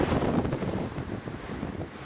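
Heavy hurricane wind gusting hard against a microphone, a loud, dense roaring buffet that surges and eases over a couple of seconds.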